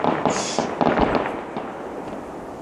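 Fourth of July fireworks display, with several sharp bursts and crackling pops heard from a distance among a murmur of outdoor crowd noise, fading toward the end.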